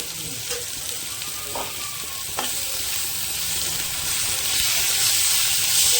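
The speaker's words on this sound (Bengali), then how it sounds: "ভালো করে আদা রসুনটা কষিয়ে নেবো।" Ginger garlic paste frying with well-browned onions in a pan for a Kashmiri potato dum, a steady close sizzle with brief stirring scrapes and a light hiss rising toward the end.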